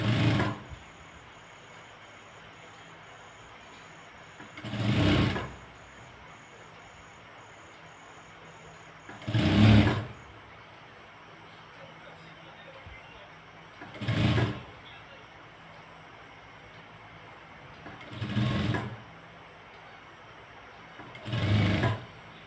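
A sewing machine stitches along the edge of folded fabric in short, evenly spaced bursts of a few seconds each, with quiet pauses and a faint background hum between runs.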